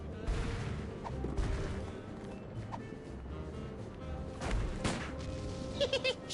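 Gunshots in the video game Sam & Max: The Devil's Playhouse sound as scattered, fairly quiet bangs and thuds spread over several seconds, mixed with game background noise.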